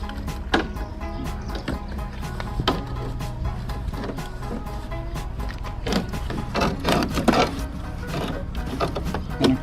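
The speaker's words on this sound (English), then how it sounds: "now I just removed the rivets that were holding the trim piece on. And so this is coming off now" Trim piece being pried and pulled off an Airstream trailer after its rivets were removed, giving a run of sharp metallic clicks, scrapes and rattling knocks that grow busier toward the end, close and fairly loud.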